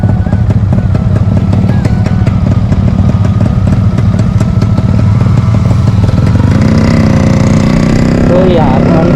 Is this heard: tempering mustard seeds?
no